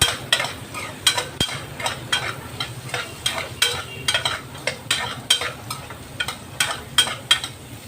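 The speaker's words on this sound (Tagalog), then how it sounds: "so tuloy-tuloy na rin ating paghalo sa ating bawang at saka sili" Garlic, chili and ginger sizzle in a pan while being stirred, a steady run of rhythmic scraping strokes over a constant frying hiss, close and fairly loud.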